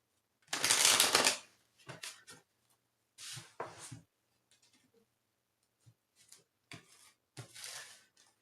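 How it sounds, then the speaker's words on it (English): Tarot cards are shuffled in several bursts: one long riffle, then shorter crisp flutters and taps separated by pauses, close and fairly quiet. "Got a couple more shuffles."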